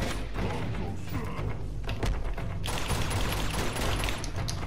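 Gunfire in the video game Uncharted 2 rattles in dense, rapid bursts over heavy low rumble, with sharp cracks and mechanical clatter, loud and continuous through a chaotic firefight.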